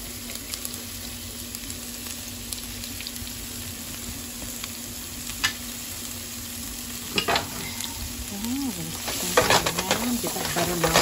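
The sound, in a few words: onions and garlic frying and stirred in pan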